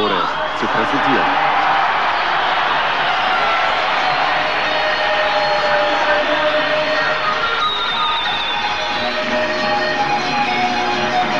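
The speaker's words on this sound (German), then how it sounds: "Viele Fans, natürlich hier im Stadion, deshalb der Jubel besonders groß bei der Begrüßung Boliviens" A packed stadium crowd roars steadily at the 1994 World Cup opening ceremony as Bolivia is welcomed, a dense, loud wash of cheering and whoops that lasts throughout, with a commentator's voice running over it.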